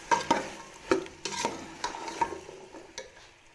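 Mixed vegetables for a vegetable pulao being stirred and sautéed in a hot pan, with spatula scrapes and clatters at irregular intervals over a soft, steady sizzle.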